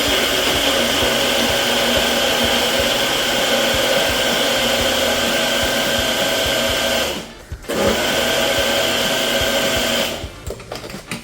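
A kitchen blender whirs steadily while blending banana milk, loud and continuous, briefly dipping once before resuming and stopping near the end.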